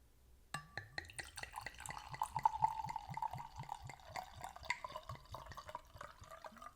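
Wine glugs from a bottle into a glass at close range, a quick rhythmic series of gulping bubbles with a rising liquid tone as the glass fills, then trailing drips.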